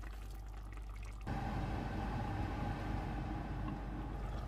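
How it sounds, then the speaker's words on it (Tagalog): Water is poured into a pot of homemade chicken on the stove, a sudden steady splashing rush that starts about a second in and keeps going close and even to the end. "Lagyan na natin ng kunting tubig para may sabaw-sabaw siya."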